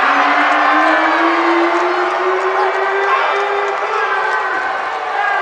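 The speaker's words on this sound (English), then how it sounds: "Listen to this crowd." Basketball crowd in an arena cheering loudly during a college game, a sustained roar of shouts and whoops with a rising whistle-like tone running through it, staying loud for the whole span.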